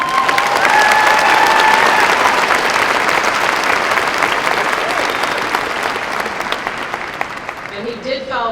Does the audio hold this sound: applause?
yes